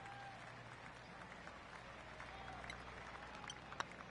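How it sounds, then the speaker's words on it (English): Soft, distant crowd applause at a golf course green in PGA TOUR 2K23, a polite golf clap held low and even under faint ambient tones, with a sharp click near the end. "That deserves a golf clap."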